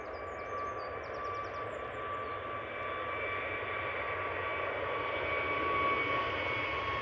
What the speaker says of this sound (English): that is definitely an A321 Neo